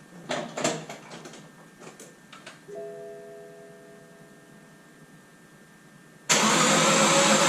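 A BMW E60 after a motor swap cranks briefly, catches and bursts into a loud, steady idle in the final seconds. Quiet shuffling and clicks come before it, and no one speaks.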